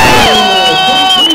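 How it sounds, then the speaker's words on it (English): A boxing arena crowd roars and whoops for the winner after a bout, a loud, dense wall of cheering with high shouts rising over it, continuous throughout. "Let's have a big round of applause for Mr. Greg Boxer."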